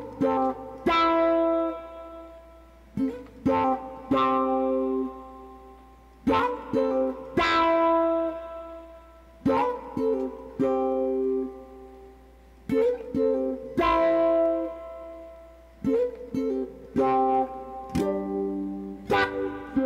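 Electric guitar plays the chorus of a song, with lightly distorted chord stabs and short picked phrases in an uneven syncopated rhythm, close and moderately loud, with no voice over it.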